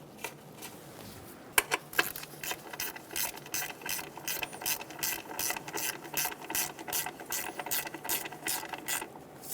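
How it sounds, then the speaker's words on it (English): A ratchet clicks in quick, steady bursts as a bolt is tightened during a valve cover gasket replacement on a 2003-2007 Honda Accord 3.0L V6, close up, with a few louder mechanical clacks near the start. "Get the bolt started and snug it down."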